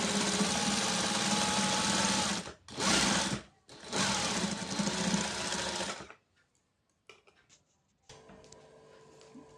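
An electric sewing machine stitches a folded dress side slit in close, loud whirring bursts, three runs separated by short pauses, then falls quiet with faint handling noises.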